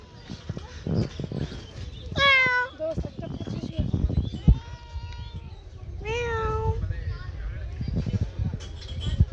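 A cat meows clearly twice, with rising, drawn-out cries near the microphone, while people talk over a busy background.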